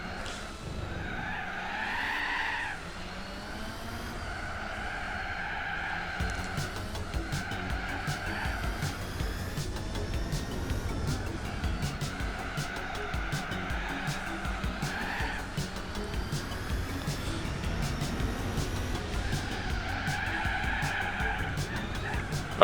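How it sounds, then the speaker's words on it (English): A Lancia in Gran Turismo 4 locks up under hard braking, its tires squealing in long, wavering screeches over a droning racing engine. The squeal continues almost without a break and rises and falls several times. "Came in just a little hot, understeered,"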